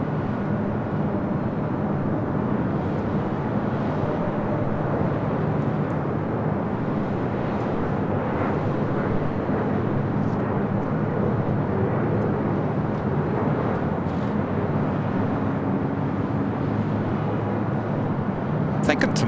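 An Alaska Horizon Embraer E175LR jet airliner from San Jose lands on the north side of LAX, a steady broadband roar that holds for the whole stretch while a person talks over it.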